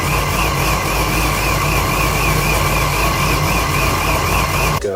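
A supercharged C6 Corvette with an A&A supercharger and a smaller 3.6 pulley idles loudly and close, its lumpy engine rumble topped by a constant high supercharger whine, with no talk.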